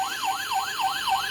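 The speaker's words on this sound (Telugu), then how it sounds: "సో దీని సైరన్ అలాగే లైట్స్ కూడా ఆఫ్ అవుతాయి." A battery-powered toy police car's siren wails in a fast, regular up-and-down sweep, repeating about every quarter second, loud and close with no talking.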